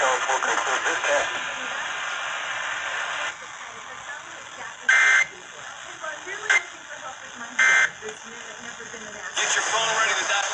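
Emergency Alert System required monthly test tones on a broadcast, closing a tsunami-warning test: steady electronic tones with several short, louder data-like bursts breaking in at intervals, no voice over them.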